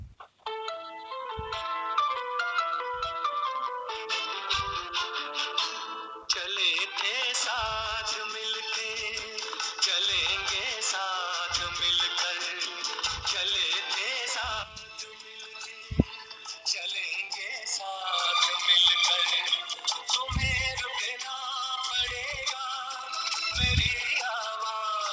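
Song with melody and rhythmic percussive beats played back from a video, continuous and fairly loud throughout, with occasional sharp low thumps.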